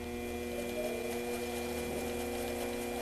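A lathe spins an assembled wooden music roll spool for a Senior 20 organ in a steady spin test, giving a continuous even motor whir and hum that holds at one level throughout.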